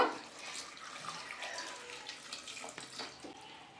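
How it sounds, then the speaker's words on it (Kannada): Water splashes and gurgles into a pressure cooker holding vegetables, a close, uneven pour of about a mugful that starts strong and settles into softer trickling. "ನಾನು ಒಂದು ಚೊಂಬು ನೀರು ಹಾಕ್ಕೊಂಡಿದ್ದೀನಿ"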